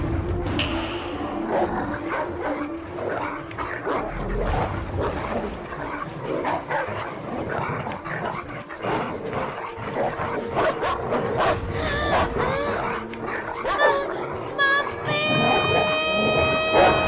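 Dogs set loose on a young girl in a film scene, barking and yelping repeatedly amid shouting voices and dramatic music that swells toward the end.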